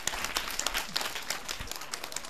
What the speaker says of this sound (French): Alors on applaudit s'il vous plaît, on applaudit.